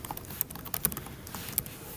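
Typing on a computer keyboard while entering data into an Excel spreadsheet, a quick irregular patter of light key clicks, close and fairly quiet, with no talking.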